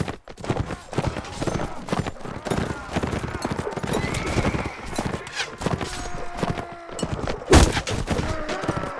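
Horses gallop and whinny amid a dense Mount and Blade Warband battle, hooves clattering with clashing weapons and impacts throughout, one sharp loud hit near the end, and no talk in the clip.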